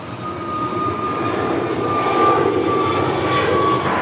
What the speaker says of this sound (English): And that is American 1576 heading to Dallas-Fort Worth. A 3-year-old A321neo.